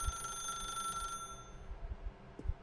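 A telephone rings in the video game The Stanley Parable, a steady electronic bell trill lasting about a second before cutting off, followed by faint clicks and low bumps in a quiet room.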